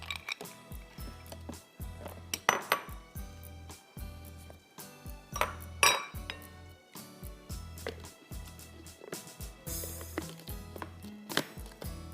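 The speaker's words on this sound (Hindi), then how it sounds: "थोड़ी सी बर्फ़ और डालूंगी, it has to be nice and slushy" Ice cubes clink and rattle one after another into a yogurt drink in a home kitchen, making repeated bright, close hits of ice against a container that build toward a slushy texture, with no one speaking.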